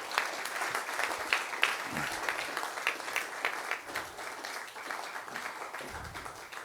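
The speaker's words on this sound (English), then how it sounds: "Paul, it's time with a round of applause" Conference audience gives a round of applause at an organic agriculture anniversary event, a moderate, steady crowd clapping with a few sharper individual claps standing out, fading slightly toward the end.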